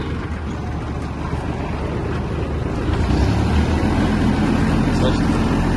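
An Iseki TK-25 Japanese mini tractor reversing, its small diesel engine giving a steady low rumble that grows slightly louder partway through, with a voice speaking over it.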